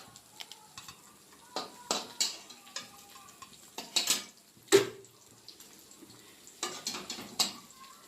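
A utensil stirs fried onions in a cooking pot for beef biryani, giving scattered scraping and clinking knocks against the metal, soft and close with quiet gaps between strokes.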